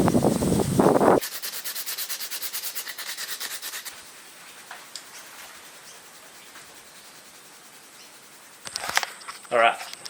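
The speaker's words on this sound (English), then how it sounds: "Now I'll finish shaping her up with some sandpaper" Rapid, rhythmic scratching strokes of sandpaper rubbing against a wooden swimbait fishing lure go on for a few seconds, with brief talking before and after.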